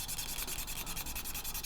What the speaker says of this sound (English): you want to work through all the different sanding grits,